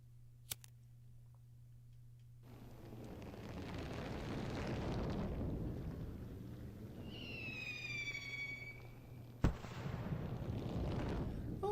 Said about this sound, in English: Oh, a firework.